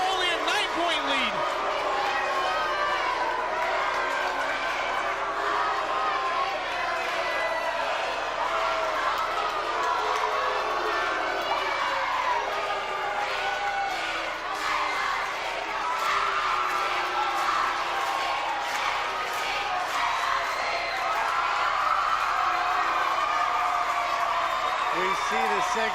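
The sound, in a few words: basketball arena crowd cheering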